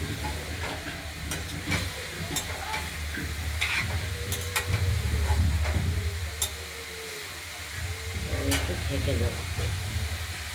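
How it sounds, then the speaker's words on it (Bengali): Cabbage being stirred in a hot pan after a green-chilli tempering, with a steady sizzle and intermittent scraping clatter of the spoon, close and fairly loud, under someone talking. "বাঁধাকপিগুলো আমরা একটু নাড়াচাড়া করে দিলাম"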